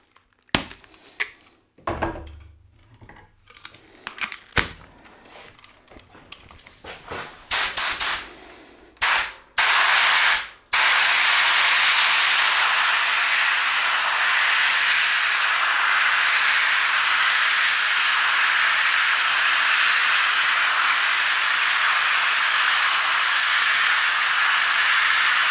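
A cheap paint spray gun releases a long, steady hiss of spray that runs unbroken for about fifteen seconds, loud and close, after a stretch of scattered clicks and short bursts.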